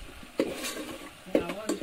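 Masala spices frying in hot tempering oil for a vegetarian party meal: a soft, steady sizzle close by, broken by a few distinct scraping stir strokes, with no talking.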